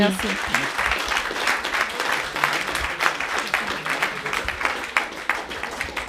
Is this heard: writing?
no